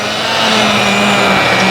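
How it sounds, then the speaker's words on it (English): Immersion blender puréeing cooked vegetable soup: a loud, continuous whirring motor with a steady pitch and churning liquid, running unbroken throughout. "Immersion blender on."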